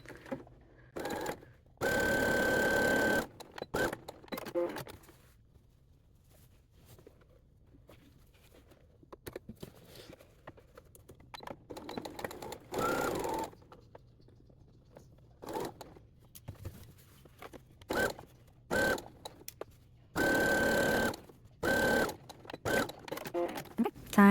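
A sewing machine stitches a ghost pinafore costume in short bursts of rapid needle rattle, separated by quiet pauses and soft handling noises.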